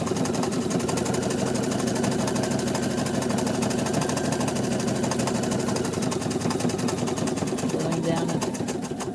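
A sewing machine stitches an angel appliqué, its steady mechanical running holding loud and continuous with only brief slowdowns at pivots, while someone talks over it.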